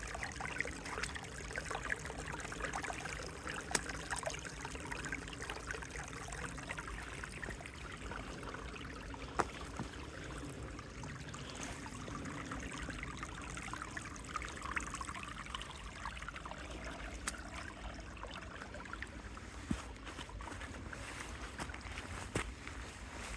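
Water trickles and streams steadily while mud is rinsed off a hiking shoe on a creek-side trail in a state park, a continuous close pouring sound with no talk.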